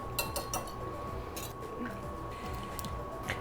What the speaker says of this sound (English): I'm going to add in my eggs and whisk together